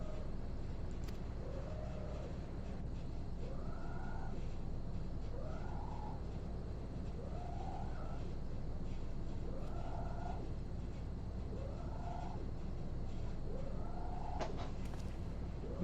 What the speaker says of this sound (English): It's a good kitty cat.